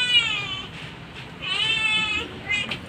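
A hungry cat meows while being fed, giving two or three drawn-out, close meows with short gaps between them.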